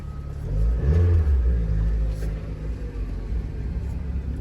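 A Mazda Miata drift car engine revs up loudly and close, a deep rumbling roar that peaks early and then settles into a lower idle-like drone.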